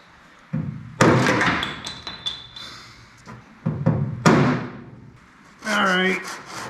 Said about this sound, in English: I'm going to knock that, that's an insulation plug